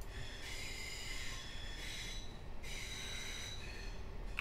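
NS VIRM double-deck train pulling away in a ChrisTrains simulator, wheels squealing in long high-pitched waves over a steady low rumble, the squeal swelling and fading twice as it rolls out.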